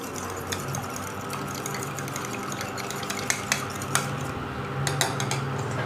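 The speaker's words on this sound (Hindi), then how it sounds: "सबसे पहले अंडों को बीट कर लेंगे।" Eggs beaten in a bowl, a steady rapid clinking and scraping of a utensil against the dish, close and continuous throughout, with a few sharper taps standing out near the end.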